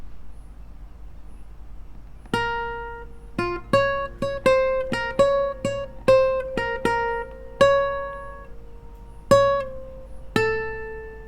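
An acoustic guitar picks a melody variation from a song, with single plucked notes in a syncopated rhythm, bright and close, each ringing briefly over a faint background hum, no speech.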